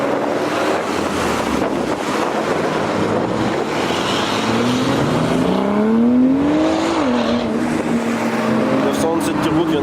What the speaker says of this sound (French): Et toutes les autres voitures qui arrivent.